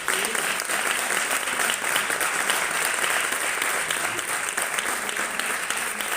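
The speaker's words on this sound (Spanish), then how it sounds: "Rogaría un aplauso para ellos." Sustained applause from an audience at a gathering in Mallorca, dense clapping that stays steady and loud from start to finish.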